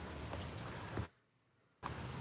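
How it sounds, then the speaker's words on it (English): Rain falls outside as a steady, close broadband hiss that cuts out for under a second before the patter resumes. "Chad, we can hear it raining"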